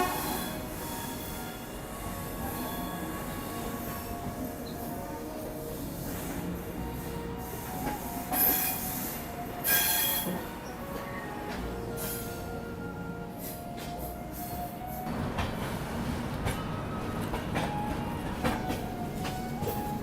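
Rajdhani Express passenger train picking up speed, with steady rumbling wheel and carriage noise, rattling and occasional squeals and hisses, heard from inside the moving coach, continuous and moderately loud throughout.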